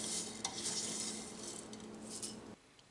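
Whole spices and dried red chillies sizzle steadily in hot oil in a home kitchen, a close, continuous crackle with a few light utensil clinks, ending abruptly near the close.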